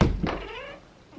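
A pet cat named Raven meows indoors in a bedroom, one drawn-out close meow with a sharp onset, then fading away.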